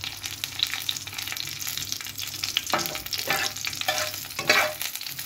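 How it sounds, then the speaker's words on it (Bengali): White cumin seeds tempering in oil in a kadai over low flame, an ongoing moderate sizzle with crackles and a few sharper pops as the spices are stirred. "এগুলো ভেজে নেব ফোড়নের জন্য"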